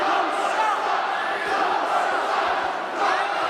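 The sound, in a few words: wrestling crowd reacting to Nick Cutler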